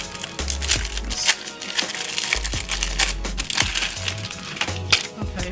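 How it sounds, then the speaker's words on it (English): Heart-shaped rhinestones from Dollar Tree are pulled out of their plastic packaging, giving close crinkling and crunching plastic sounds in quick irregular bursts, with faint low thumps underneath. "I'm just gonna take these out of the packaging here and see how easy they peel off"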